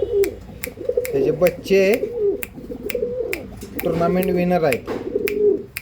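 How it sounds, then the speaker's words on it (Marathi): Mastan line pigeons, a top-quality male among them, coo in repeated throaty bursts close by, with someone talking over and between the calls. "एकदम टॉप क्वालिटीचा कबूतर आहे."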